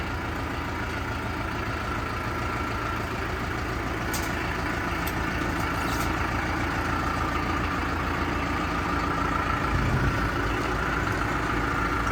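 The heavy engine of a new Basak 2110S tractor being unloaded rumbles and idles steadily the whole time, loud and close, with a few faint metallic clicks partway through.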